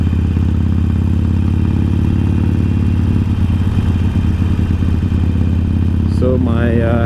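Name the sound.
Harley-Davidson Sportster motorcycle engine while riding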